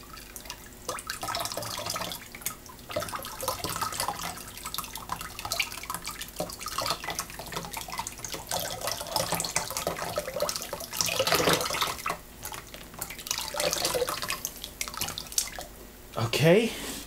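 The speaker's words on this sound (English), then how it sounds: "I've got the glaze here. I'm going to pour it over there like that." Ceramic glaze poured over a pottery lamp base, a steady splashing liquid pour with dripping, close by, with someone talking over parts of it.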